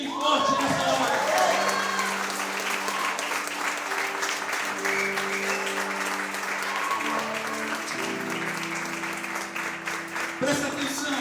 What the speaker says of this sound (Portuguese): aplaude a Ele bem forte nessa hora